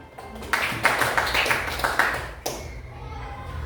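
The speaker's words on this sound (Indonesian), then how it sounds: "tepuk tangan untuk Kristina dong" A classroom of students claps for a classmate named Kristina, a scattered burst of hand claps with children's voices and chatter mixed in, fading out toward the end.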